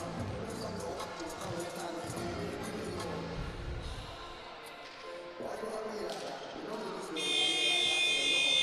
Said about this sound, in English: there is the final buzzer before we get the action underway